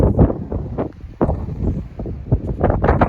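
Gusty wind buffets the microphone in bursts on an out-of-season beach in the Albanian Alps region, loud and uneven with no voices.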